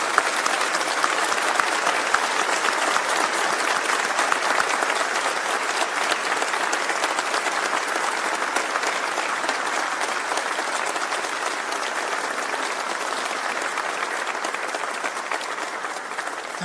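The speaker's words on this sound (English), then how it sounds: "A round of applause for your loved ones." A graduation ceremony crowd applauds their loved ones, a sustained, even wash of many hands clapping at moderate level throughout, with no talking.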